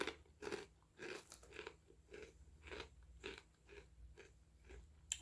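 Someone crunches and chews Takis spicy tortilla chips up close, a quiet, repeated series of crisp crunches spaced roughly every half second with no talk.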